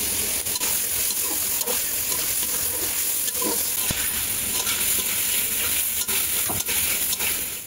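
Small shrimp frying in hot oil, a loud, dense sizzle running throughout, broken by repeated sharp scrapes and clinks of a spatula stirring in the pan.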